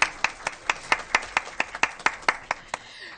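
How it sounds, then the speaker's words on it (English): Steady, evenly spaced hand claps at a school board meeting, about a dozen in a row, crisp and fairly close, trailing off at the end. "Yes, we'll clap."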